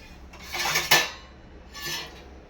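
A lid is set onto a pot of wheat semolina and yogurt batter, giving one clear clattering knock followed by a softer second clink close by, with no talking.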